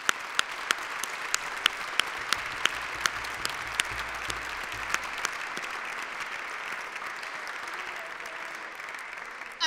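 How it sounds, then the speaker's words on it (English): Sustained applause from a gathered crowd at a university staff appreciation event, steady dense clapping with a few sharper nearby claps standing out, fading slightly toward the end. "So give yourselves a round of applause."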